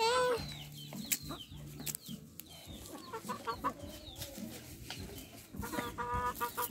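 Chickens cluck and squawk nearby while being fed shelled corn on a farm, with short irregular calls scattered across several seconds, moderately loud.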